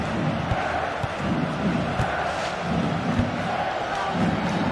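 Stadium crowd in a FIFA football video game, a dense roaring wash of fans rising and falling, with occasional dull thumps of the ball punctuating the steady noise.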